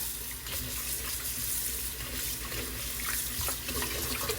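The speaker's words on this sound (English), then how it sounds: "Now I'm going to run some more water through this because I need it" Water runs steadily from a tap into a sink, a constant close splashing hiss with no break and nobody speaking over it.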